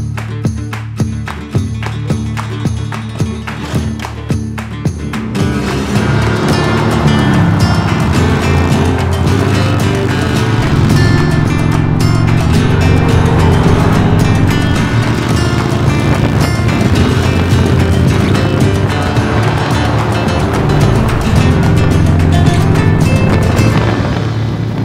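Harley-Davidson motorcycles riding on the road toward Pioneertown and Joshua Tree, loud rumbling engine roar under heavy wind noise, starting with a choppy idle and rising into a steady cruising drone.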